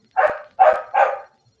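Three loud, close dog barks in quick succession, each short and evenly spaced, heard alone with no talking over them.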